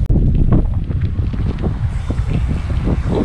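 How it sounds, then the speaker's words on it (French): Gusty wind rushes and buffets the microphone outdoors at a mountain bike pumptrack, a loud continuous roar with uneven surges and no voices. "il y a un petit peu de vent"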